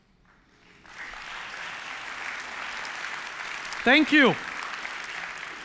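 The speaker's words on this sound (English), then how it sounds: "I wasn't expecting applause, but I know why you're applauding" A church audience in Bellevue applauds steadily from about the one-second mark, a sustained wash of clapping, while someone briefly speaks over it near the end.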